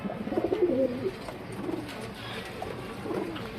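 Male pigeon of an old line cooing close by, a few low throaty coos rising and falling over quiet background, no talk.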